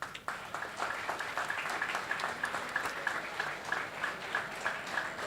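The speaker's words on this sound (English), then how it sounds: "So a big round of applause to you all." A conference audience applauds continuously, many hands clapping in a dense, even patter at moderate level from start to finish.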